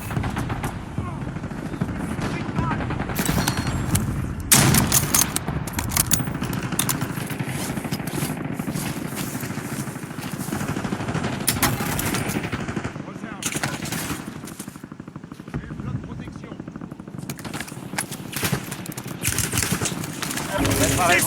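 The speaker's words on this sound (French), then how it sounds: "On tire dessus." Video game firefight with dense bursts of automatic gunfire and scattered single shots over an engine-like rumble, with voices talking throughout.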